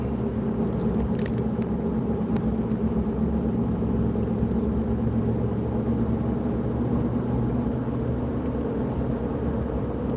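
A car drives along a countryside road, heard from inside as a steady, unbroken low rumble of engine and tyres with no talking.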